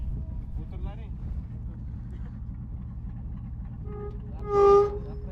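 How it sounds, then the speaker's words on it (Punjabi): An Ottoman-era train in Jordan rumbles and clatters steadily along the tracks, with a brief louder hooting tone near the end. "ਚੱਲਦੀ ਤਾਂ ਬੜੀ ਖੜਕ ਕੇ ਜੇ"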